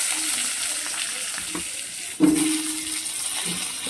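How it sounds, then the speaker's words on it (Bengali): Cut potatoes frying in oil in a pan, a steady close sizzle with a sudden louder burst of hissing midway as something is stirred or added, no voices. "দেখো প্রথমে আলুগুলো ভেজে নিচ্ছি"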